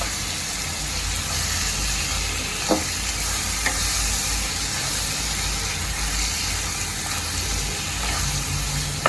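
Khandeshi bharit, a spicy eggplant dish, being stirred together in a hot pan, a steady sizzling hiss with a few soft scraping knocks of the spoon.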